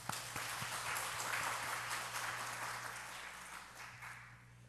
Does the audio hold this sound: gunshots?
no